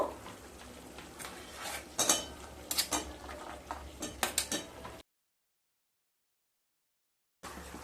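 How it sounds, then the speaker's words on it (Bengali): Fried potatoes mixed into spices in a metal pan, with scattered close clinks and scrapes of a utensil against the pan, then a gap of silence before faint noise returns. "আলুগুলোকে মশলার সাথে খুব ভালোভাবে মিশিয়ে নেব।"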